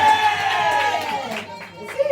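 A church congregation acclaiming the Lord with a loud, sustained swell of crowd voices and cheering that briefly dips before rising again.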